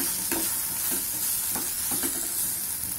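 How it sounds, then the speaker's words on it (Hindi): Boiled corn kernels roast with spices in a pan, a steady close sizzle broken by a few soft scraping strokes of stirring, with no voices. "और भून लेंगे 2 मिनट के लिए।"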